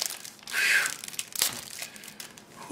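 Loud crinkling and tearing of tough packing tape being pulled off a toy box during an unboxing, in short close bursts with rustling between them.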